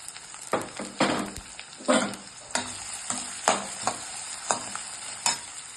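Onions with mustard seeds and urad dal frying in hot oil, stirred in a pan for a dried shrimp fry: steady sizzle with repeated clattering stirring strokes about every second, close and alone with no talk.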